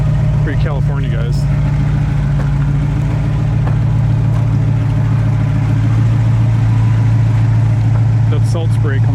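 A 1969 Pontiac Firebird 400 engine drones at a steady, loud, low pitch throughout, with faint clatter and a voice talking over it.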